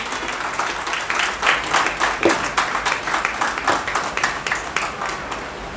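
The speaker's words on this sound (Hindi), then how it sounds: "जोरदार तालियों के साथ स्वागत कीजिए प्लीज" An audience claps to welcome a speaker onto the stage at a Bharthwal family foundation-day gathering at Garhwal Bhawan, the applause swelling in uneven pulses and holding steady, fairly close and moderately loud.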